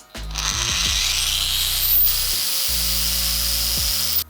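StartPro angle grinder with speed control switched on, spinning up with a soft start to a steady high whine, briefly dropping and restarting, loud and close with no talk.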